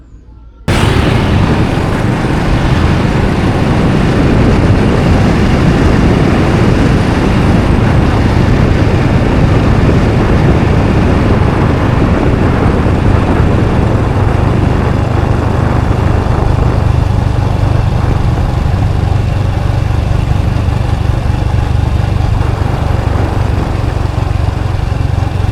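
A motorcycle riding along the Hai Van Pass road near Da Nang, a loud continuous roar of engine and wind buffeting that begins abruptly and holds steady throughout, with no talking.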